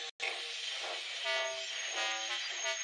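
A steady, dense rush of steam-train noise with a brief dropout at the start, continuous hissing chuffs and faint whistle-like tones running throughout.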